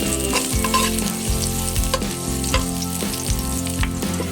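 Ginger fries in a pan with a loud, close, steady sizzle, while regular utensil knocks and scrapes sound through it and no one talks.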